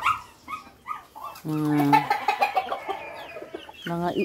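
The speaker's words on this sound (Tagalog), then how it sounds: "Ito po yung tandang na to." Chickens cluck in short bursts, then a rooster crows loudly and close, with a second crow starting at the end.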